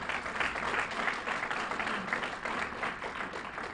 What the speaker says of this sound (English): Can we please have another round of applause for all of them,